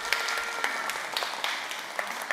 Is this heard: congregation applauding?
yes